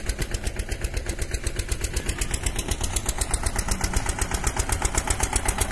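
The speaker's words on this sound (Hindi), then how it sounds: "पूरी चरखी एक आइसा ट्रैक्टर के इंजन से चलाई जाती है जो आपके सामने है।" A tractor engine drives a sugarcane crusher at a jaggery-making site, running steadily with a fast, even thumping pulse and a loud, dense rumble throughout, with no voices.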